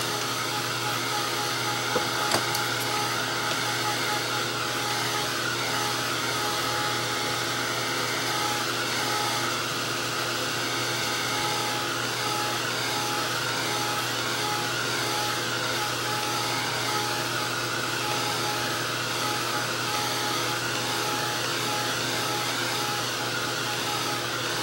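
A hair dryer blows steadily over an acrylic painting to dry it, a continuous loud whirring hum that runs unbroken for the whole stretch, with one brief click near the start.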